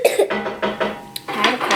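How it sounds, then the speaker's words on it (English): A person coughs several times in quick succession, close and fairly loud, with a short pause before a final burst of rough, raspy coughs. "I have a cough, just so you know."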